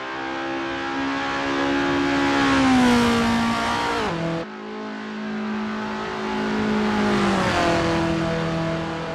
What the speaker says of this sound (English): here's a lap by Formula Mevchenko in a Formula Easter car